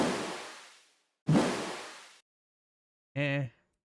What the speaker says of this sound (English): What's these whooshes?